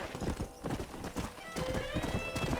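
Rhythmic hoofbeats of a galloping horse in the video game Red Dead Redemption, fairly close, with a whinny breaking in partway through.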